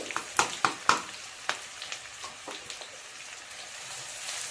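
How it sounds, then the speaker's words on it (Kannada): Chopped onions frying in oil in a pan, with a few sharp crackles and stirring scrapes early on, then a steady soft sizzle. "ಈರುಳ್ಳಿ ಕೆಂಪಗಾಗಲಿ ಸ್ವಲ್ಪ."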